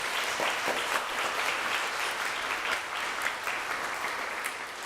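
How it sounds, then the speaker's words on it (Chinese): A church congregation at a Mandarin-language worship service claps in encouragement, a steady wash of many hands sustained evenly and fading slightly at the end, heard from the room without talk. "我们给他们拍手鼓励哈。"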